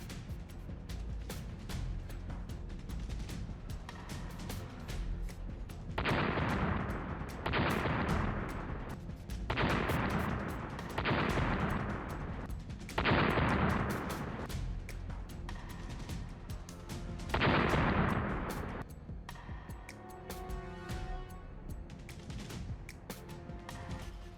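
An army artillery gun fires a series of heavy rounds, about six loud booming blasts spaced a few seconds apart, each followed by a rumbling decay over a constant outdoor background.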